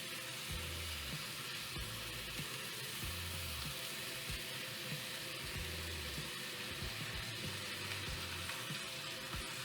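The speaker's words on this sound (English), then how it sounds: "We're going to let that cook to get a nice sear." A marinated cauliflower steak sears in a hot pan, giving a steady, loud sizzle that runs the whole time without pause, with low crackles underneath and no voices.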